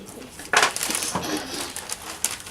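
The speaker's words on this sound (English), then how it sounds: "now you can start mixing the 4 cups of seeds" Bird seeds being stirred and poured together in a mixing bowl for homemade bird treats, a dry rattling and crunching that swells after a brief pause and keeps shuffling steadily, with a voice faintly nearby.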